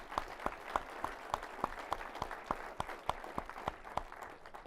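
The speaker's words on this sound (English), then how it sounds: "So please give them a round of applause." An audience at a city presentation applauds with steady, evenly spaced claps, moderately distant and fairly thin, as if from a modest crowd, continuing throughout.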